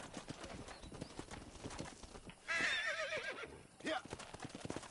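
A horse in Red Dead Redemption clops along with quick hoofbeats, then lets out a loud, wavering whinny midway, close by, followed by more hooves and a second shorter neigh.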